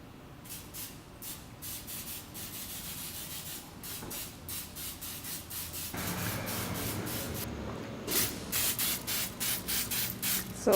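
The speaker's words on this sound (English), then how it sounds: "So right now I'm coating the inside of these cups with like a slippery spray" Bursts of slippery release spray hiss in short repeated blasts as the inside of cups is coated before pouring plaster, loud and close with brief pauses between sprays and no talking.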